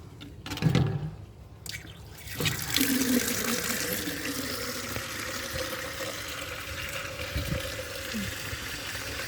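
Water runs steadily from an outdoor garden tap used for watering plants, a continuous hiss after a few brief knocks and a short voice at the start.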